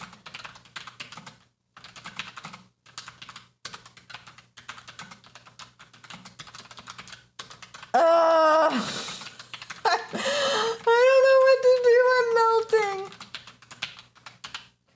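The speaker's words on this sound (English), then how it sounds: "I'm still typing this long phrase" Rapid tapping on a computer keyboard clatters steadily through the first half, close and crisp, then loud animated vocal sounds and shrieks take over later.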